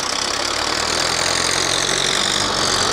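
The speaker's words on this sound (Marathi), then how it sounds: "हे बघा ट्रॅक्टर चाललो" A tractor engine runs loud and close at a steady idle, with a constant rumbling throb and no voices at a village Dussehra gathering.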